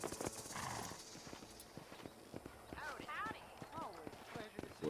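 A horse's hooves clip-clop at a quick, rhythmic pace in the Red Dead Redemption video game, with a few whinnies breaking in near the middle and end while someone talks over it.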